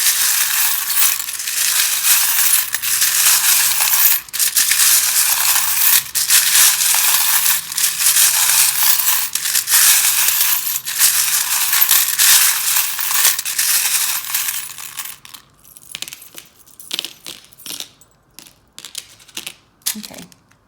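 A deck of tarot cards is shuffled close up, a loud, dense crackling riffle running continuously for about fifteen seconds before tapering into scattered taps and light clicks.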